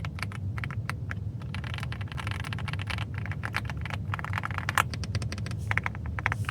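Rapid keystrokes on a visually pleasing computer keyboard, a dense, steady patter of close, crisp clicks and taps continuing throughout with no talking.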